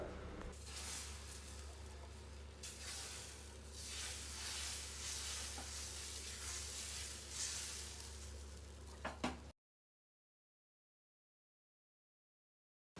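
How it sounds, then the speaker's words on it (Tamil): Black chana dosa batter sizzles on a hot pan, producing a soft continuous hiss that stays faint and close, then stops abruptly into silence. "1 ஹவர் கழித்து நம்ம இப்போ தோசை ஊற்றலாம்"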